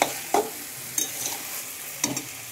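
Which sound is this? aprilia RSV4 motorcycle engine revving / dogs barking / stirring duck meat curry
stirring duck meat curry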